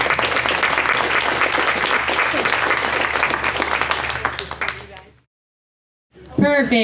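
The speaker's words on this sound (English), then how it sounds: "Let's give them a round of applause here." Audience at a business founders' event gives a full, dense round of applause that holds steady for about five seconds, then fades and cuts to silence before a voice begins speaking.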